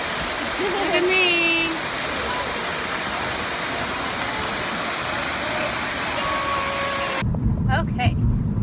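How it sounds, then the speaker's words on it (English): Steady, loud rushing roar of the waterfall pool at a Fort Walton Beach hotel, continuous close white water with faint voices and brief tonal sounds over it, cutting to a quieter scene near the end. "the waterfall pool at the island by RL"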